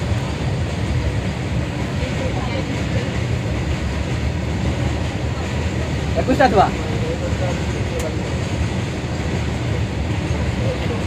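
A train runs past on the rails with a steady low rumble and rattle throughout, rising briefly in the middle, while people talk nearby.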